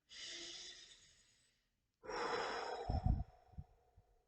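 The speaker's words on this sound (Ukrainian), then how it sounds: "робимо глибокий вдих і видих" A person takes a slow, deep breath in and then a long breath out, close and soft, with a brief pause between the two.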